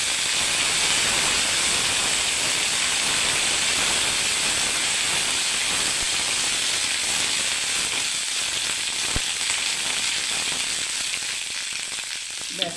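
Mustard seeds and curry leaves sizzle in hot oil, a steady close hiss and crackle that goes on throughout with a few sharp pops and slowly eases toward the end.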